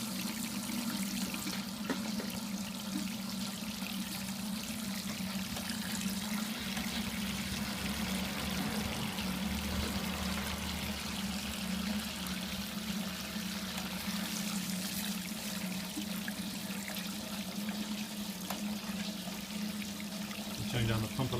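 Water runs steadily out of a homebrew grain bed through a small electric pump, a continuous close pouring and trickling with a low steady hum underneath, while someone talks over it now and then.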